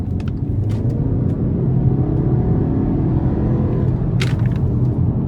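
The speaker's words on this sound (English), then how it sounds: "And I'm gonna try to give it a punch coming out of this corner here." A 2022 Volkswagen Passat SE pulls hard out of a corner, its engine a steady, loud low rumble from inside the cabin, with a couple of brief higher clicks or ticks.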